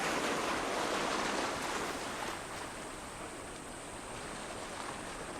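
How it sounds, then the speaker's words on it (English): Ocean waves wash onto a shore in Serengeti National Park, a broad, continuous hiss of surf that swells slightly and then eases, steady and fairly soft with no voices. "the waterside where waves come and go is a very scary place for chimpanzees"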